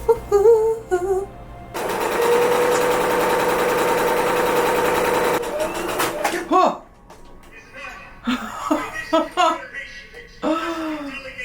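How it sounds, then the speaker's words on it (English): A sewing machine runs in a steady, buzzing burst of several seconds while hemming a fraying fabric strip on a thrift-flip garment, with a person talking before and after it. "I'm gonna fold it, sew it down, fold it again, and then sew it down."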